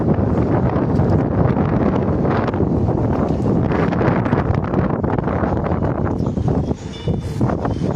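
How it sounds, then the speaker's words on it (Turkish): Strong northeasterly poyraz wind on the Istanbul shore while fishing roars steadily against the microphone throughout, a loud continuous buffeting rumble with gusty surges and no voices. "Evet hava bayağı bir poyraz var arkadaşlar. Rüzgar bayağı var."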